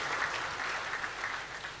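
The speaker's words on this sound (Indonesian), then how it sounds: "Satu orang tepuk tangan, semua tepuk tangan." A church congregation applauds during a sermon, a steady wash of many hands clapping that stays fairly quiet and even, with no voices over it.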